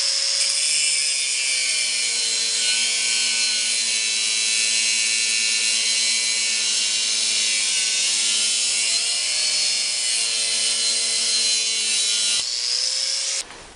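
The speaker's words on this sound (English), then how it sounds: "So I'm gonna grind off the end of this bolt," Power grinder cutting off the end of a 21 mm bolt on a leaf spring, a loud continuous high whining grind held steadily for over twelve seconds, then stopping abruptly, no talking.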